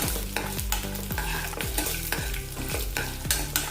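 Raw rice and coconut breakfast mixture with peanuts and chana dal being dry-roasted in a pan without oil, a spatula scraping and stirring in quick repeated strokes over a low crackle, close and fairly loud; no voices.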